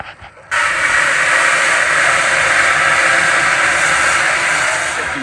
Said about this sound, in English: And now the boiling water.